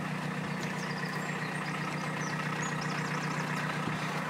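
The 1.6 litre diesel engine of a 1989 Volkswagen Caddy pickup truck idles in an even, low, continuous drone, fairly quiet and steady, with no one speaking.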